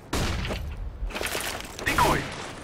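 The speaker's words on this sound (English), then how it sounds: "Flashbang!" A flashbang grenade goes off in a video game, giving a sharp burst followed by a ringing, rattling noise among other gunfire-like thumps, with a voice speaking over it.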